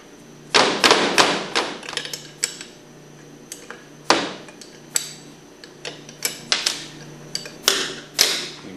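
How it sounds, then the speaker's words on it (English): Half-inch wrench loosening the four flange bolts on a Hypro centrifugal pump, a run of sharp metallic clicks, taps and thuds at close range, irregular and separated by short quiet gaps. "take your half inch wrench and remove these four bolts"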